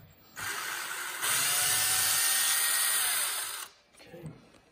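A power driver loosens a Loctite-secured servo screw on an RC chassis during a ProModeler DS1155BLHV servo install, a close, steady whirring burst of about three seconds that stops abruptly, followed by a brief faint mechanical rustle.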